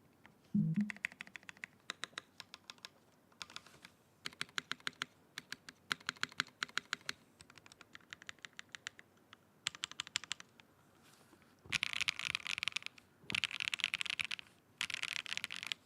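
Typing on an AKB Metanoia mechanical keyboard, with close, crisp key clacks in quick bursts and pauses, ending in denser runs of rapid keystrokes.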